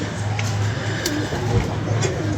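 Domestic pigeons in a loft coo softly in repeated low, throaty phrases at close range over a faint background murmur, with a voice speaking briefly nearby.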